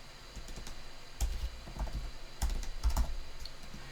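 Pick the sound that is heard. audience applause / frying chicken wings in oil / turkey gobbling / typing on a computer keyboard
typing on a computer keyboard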